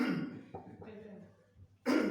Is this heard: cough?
yes